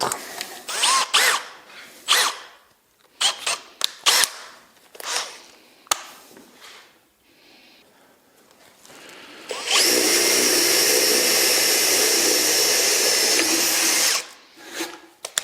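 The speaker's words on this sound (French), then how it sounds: "on va faire le premier trou en 10 mm" Power drill boring a 10 mm hole in wood for a birdhouse, one continuous high whine lasting about four seconds after a stretch of scattered knocks and handling noises.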